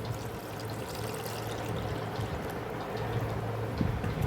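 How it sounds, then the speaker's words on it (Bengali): Water poured from a vessel into a cooking pot in a home kitchen, a steady continuous pour with a low gurgling stream that holds at a fairly even level for a few seconds, close and alone. "এবার এখানে জল দিয়ে দিলাম"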